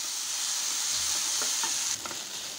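Onions with ginger garlic paste for a potato masala sauté in a pan: an even hiss of frying with a few brief scraping stirs near the middle, and nobody speaking.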